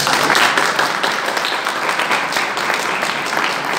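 A seminar audience at an RCM event in Hingoli bursts into loud, close, sustained clapping from many hands, a thick continuous roar that eases only slightly toward the end.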